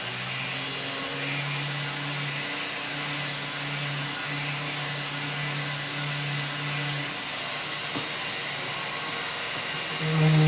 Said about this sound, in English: I'm going to hit that with a diamond burr on this side because it's a little bit too much for the sandpaper.